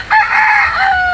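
A single rooster crows loudly and close, one drawn-out call lasting about a second.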